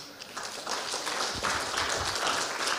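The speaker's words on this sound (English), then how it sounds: "To the audience, give yourselves a round of applause" An audience at an evening talk claps in a moderate, fairly even wash of applause lasting a few seconds, heard from a slight distance with no speech over it.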